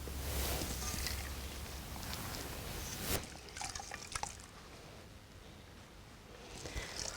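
A thin towel dipped in hot, near-boiling water for a fomentation, with liquid splashing at first, then soft irregular drips and trickles falling back into the water, quiet and close.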